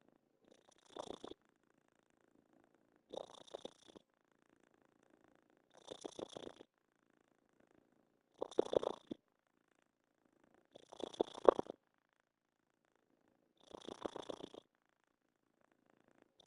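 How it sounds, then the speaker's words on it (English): A cat purrs close and quiet in six separate rumbling bursts spaced a couple of seconds apart, with near silence between them. "Listen, can you hear purr?"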